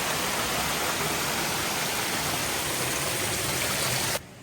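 A river rushes past continuously beside an old flooded sawmill in the woods, a dense broadband wash of flowing water that cuts off abruptly near the end.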